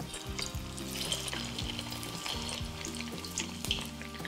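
Fasting medu vada dropped into hot oil, a continuous soft sizzle with fine bubbling crackle, steady and close throughout without talk.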